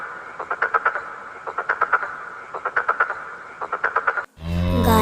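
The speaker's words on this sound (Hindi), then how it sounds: "मेंढक की टरटर" Rhythmic frog croaking in quick bursts of rapid pulses, repeated four times with short gaps, fairly close, ending in an abrupt louder noise.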